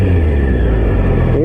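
A Triumph Street Triple RS motorcycle engine holds a steady high rev around 8,000 RPM, a dense, loud continuous drone lasting barely over a second.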